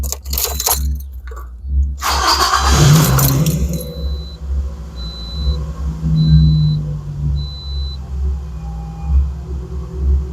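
A 2008 Toyota RAV4 is started: keys jangle, a short burst of cranking follows, then the engine settles into a steady low idle while a dashboard chime beeps several times.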